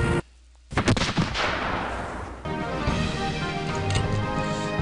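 Gunfire in the Civil War Generals 2 strategy game at the Battle of Bull Run: one sharp crack, a short pause, then a clustered volley of shots that settles into a dense, sustained roar of battle noise.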